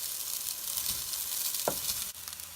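Rice being stir-fried in a pan with softened carrot and beans, a steady sizzle with a brief stirring scrape, near and without talk.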